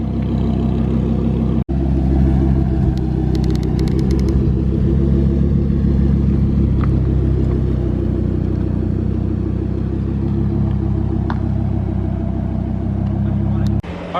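A wrapped Lamborghini Huracan fitted with a $4,000 aftermarket exhaust idles and rumbles loudly at close range in Orange County, a deep steady engine drone with a brief cutout early on and a few revs.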